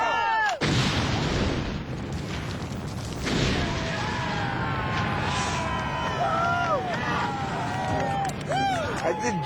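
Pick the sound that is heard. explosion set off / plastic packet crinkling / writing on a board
explosion set off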